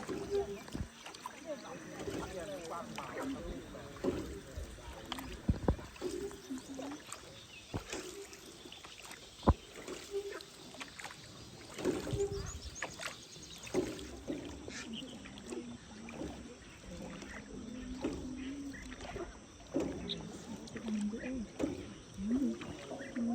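Small rowboat gliding through the waterways of Ninh Binh, Vietnam, with soft oar splashes and water trickling along the hull, quiet and close, punctuated by occasional knocks, with faint voices talking in the background.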